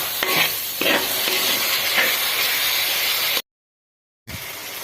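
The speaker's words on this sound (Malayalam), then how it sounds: "തക്കാളി ചേർത്തിട്ട് നല്ല വാട്ടിയെടുക്കാം." Tomatoes sautéing in a pan after onions, giving a steady sizzle and hiss with a few stirring scrapes, loud and close, then cut by a second of silence before the frying resumes.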